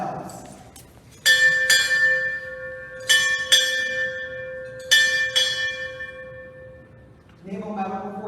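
A ship's bell struck six times in three close pairs at a naval change-of-command ceremony, each pair of strikes ringing out clearly and decaying slowly, followed briefly by a voice at the end.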